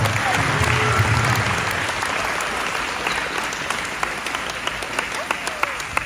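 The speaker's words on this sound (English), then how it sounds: "a round of applause for the national" An audience at a Lutheran school event honoring a longtime basketball coach claps steadily, a sustained wash of applause that gradually thins toward the end.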